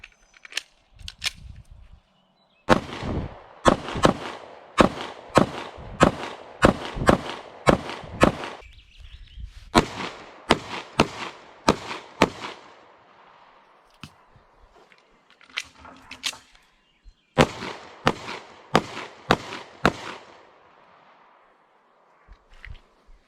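Ruger pistol fired at a shooting range: long strings of sharp, loud gunshots in quick, steady succession, broken by two short pauses, with a few isolated shots at the start and end.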